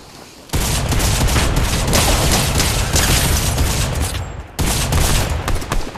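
Grenades bursting in Fortnite, a loud continuous barrage of blasts and crackling booms that drops out briefly twice and then resumes at full force, with no talking.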